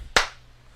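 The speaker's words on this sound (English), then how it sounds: "That's an audio clap for you guys." A single sharp hand clap, struck once to sync audio, close and loud with a quick decay into a quiet room.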